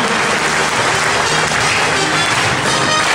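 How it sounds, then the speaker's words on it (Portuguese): A church congregation at a worship service claps loudly and continuously, a dense roar of applause filling the space throughout. "E palmas para Jesus."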